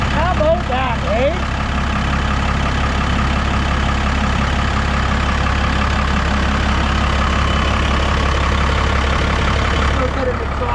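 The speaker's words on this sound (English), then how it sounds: "And yes, 12-valve Cummins are loud." A first-generation Ram truck's 12-valve Cummins diesel idles loudly up close, a deep steady rumble with a rough clatter running throughout, and someone talks over it.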